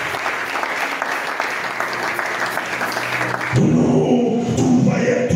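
A church congregation applauding at a worship service, sustained dense clapping that swells louder and fuller partway through, with voices mixed in.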